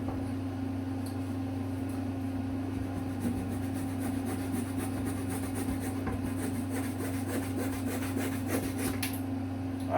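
Wood is cut on a Top Flite Cessna 182 model's bottom fuselage, heard as quiet, repeated rasping strokes over a constant low mechanical hum.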